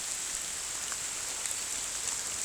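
Rain patters steadily onto leaves along a woodland walk on the Isle of Arran near Lamlash, a constant close hiss with scattered individual drops and no voices.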